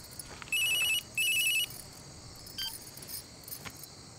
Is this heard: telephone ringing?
yes